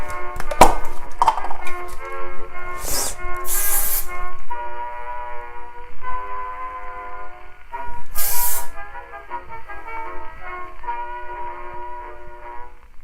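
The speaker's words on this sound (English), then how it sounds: "Hairspray is coming out." Hairspray from an aerosol can is sprayed onto styled hair in a few short hissing bursts, two close together and one later, heard over steady background music.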